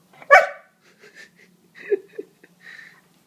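A dog gives one sharp, loud bark, then a few softer wheezy yips and whimpers follow in quiet, broken bursts close by.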